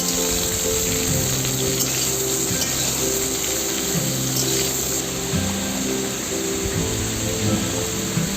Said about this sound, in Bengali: আলু আর দিয়ে দিচ্ছি কুমড়ো আলু কুমড়োটাও একটু ভেজে